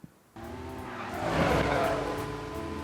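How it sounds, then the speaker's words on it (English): In the Bee Movie video game, a bee drives a car: a steady engine drone rises and swells with faint tire squeal, sounding continuous and moderately loud with no talk over it. "Oh, so the bee driving the car."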